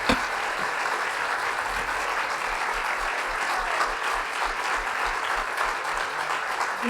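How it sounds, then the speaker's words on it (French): An audience gives steady applause for Yves-François Blanchet after an interview, a continuous wash of clapping at even loudness from start to finish, with no speech over it. "Une bonne main d'applaudissements pour M. beaucoup."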